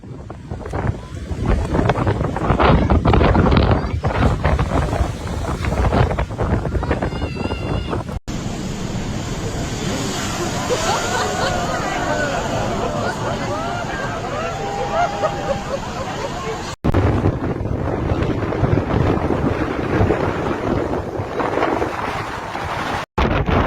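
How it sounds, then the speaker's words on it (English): Storm Patricia driving strong waves onto the French and UK coast, with loud, steady wind roar buffeting the microphone and crashing surf throughout, in bursts broken by brief cuts. "Strong waves hit part of the UK and France on Wednesday as Hurricane Patricia"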